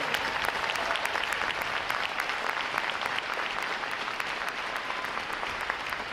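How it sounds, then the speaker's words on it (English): Audience applause for unit and individual award recipients at a U.S. Navy boot camp graduation, a sustained, even round of clapping from a large crowd that holds steady throughout. "how about we give another round of applause for our unit and individual award recipients, please"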